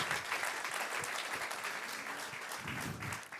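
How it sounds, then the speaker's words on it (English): A conference audience in Amsterdam claps for two developer advocates leaving the stage, a fairly quiet, steady wash of applause with some individual claps standing out. "Have a big round of applause for these two developer advocates"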